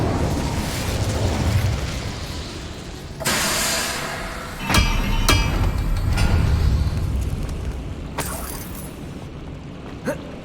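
Incendium fire spell blasts in Hogwarts Legacy, roaring fiery bursts with loud explosive whooshes and crackling rumble, several blasts spread through combat, close and heavy.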